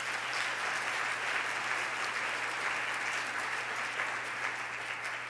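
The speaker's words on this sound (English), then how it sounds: "Another round of applause for Mayor Andrew, please." An audience at the US Conference of Mayors applauds Mayor Andrew, a steady, dense wash of clapping that holds evenly throughout without pause.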